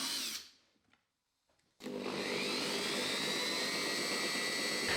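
Metal lathe cutting off the tip of a workpiece held in a steady rest: after a brief quiet gap, a loud, steady machining roar with a high whining tone starts abruptly and continues unbroken.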